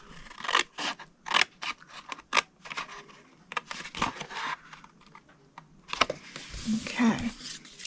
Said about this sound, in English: We're going to go to the second score line, cut it to the second score line